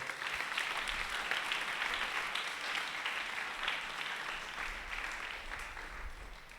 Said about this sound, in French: acclamons le Seigneur pour tous les enfants